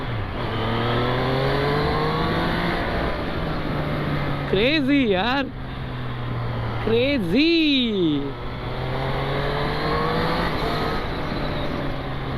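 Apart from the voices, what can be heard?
superbike engine revving while riding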